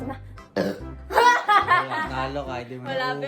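A burp during a no-burping challenge, a short throaty belch mixed with lively Filipino chatter and laughter close by.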